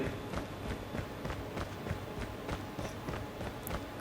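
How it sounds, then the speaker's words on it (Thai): Footsteps in the mobile shooter game Call of Duty Mobile: a steady run of quick, crisp footfalls, fairly loud and close, continuing without pause over a dense game background. "เสียงฝีเท้าดังมาก"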